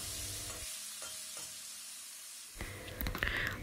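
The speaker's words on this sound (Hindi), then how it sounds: "तो इसी ऑयल में मैं दे रही हूँ काला जीरे और अभी मैं दे रही हूँ तेजपत्ते और सिनेमन स्टिक।" Black cumin, bay leaves and a cinnamon stick dropped into hot oil, giving a soft sizzle and stirring scrape that briefly quietens, then a louder crackling frying burst near the end.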